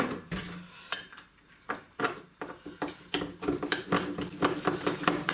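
A spoon clacks and scrapes around a bowl while mixing thick sweetcorn fritter batter, a run of close, irregular knocks and clinks growing busier toward the end.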